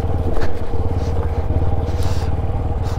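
A heavily loaded TVS Apache motorcycle riding a rough Ladakh mountain route near icy snowmelt water, its engine droning loud and close with rattling clatter throughout.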